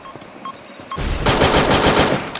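Automatic gunfire in a video game shooter match: a quiet lead-in gives way to loud, sustained rapid-fire bursts that fill the rest of the moment.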